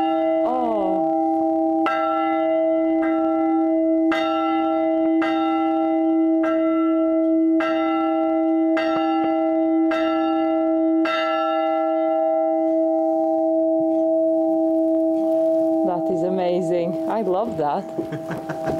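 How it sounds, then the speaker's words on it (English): A large bell in an abandoned convent, rung by pulling its rope, strikes about ten times at a steady pace, each loud clang ringing on over a sustained hum before a clattering tail at the end. "Yes, you ring the bell."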